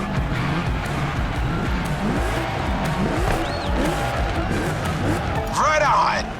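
Race car engine roaring during a drag race in The Crew Motorfest, loud and continuous with rising revs and tire squeal toward the end, close up over game music.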